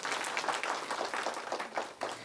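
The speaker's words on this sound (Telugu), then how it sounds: "వాళ్ళందరికీ ఒకసారి గట్టిగా చప్పట్లు కొట్టుంది." An audience at a community service event applauding, a brief burst of quick irregular clapping heard at moderate distance that rises and dips in small waves.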